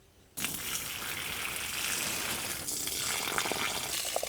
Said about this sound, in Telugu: ఇప్పుడు నీళ్ళు ఒంపేసుకుందాం